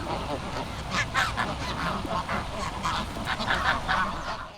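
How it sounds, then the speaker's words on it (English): A flock of geese honk steadily and loudly while being fed at Zoo Lake in Johannesburg, South Africa, with overlapping calls over a constant outdoor hubbub. "this nice gentleman came to feed the geese"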